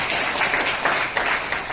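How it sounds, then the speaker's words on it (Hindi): Audience applause after a spiritual talk at a camp gathering, a brief burst of many hands clapping together, dense and moderately loud. "ताली बजाओ उनके लिए"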